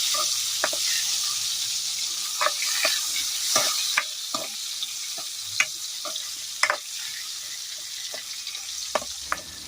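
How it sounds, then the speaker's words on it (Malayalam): Brinjal pieces coated with turmeric and salt sauté in hot oil for a Kerala eggplant curry. A steady close sizzle carries sharp scrapes and clicks as a spatula stirs the pan at irregular intervals, with no voices. "അതിലേക്ക് നമ്മൾ മുൻപ് മഞ്ഞളും ഉപ്പും ചേർത്ത് വെച്ചിരുന്ന വഴുതനങ്ങ ഇട്ട് വഴറ്റിയെടുക്കുകയാണ്."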